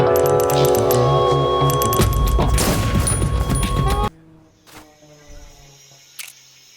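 Gunfire in an Xbox game crackles loudly in rapid sharp bursts over game music, then cuts off, leaving a few quieter distant cracks and people talking.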